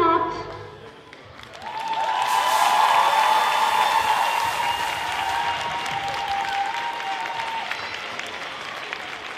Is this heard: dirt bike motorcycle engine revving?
no